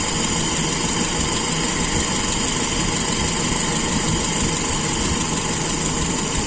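A carburetor engine idles after its air screw has been adjusted, giving a steady, even drone that holds without rising or falling, close and continuous throughout.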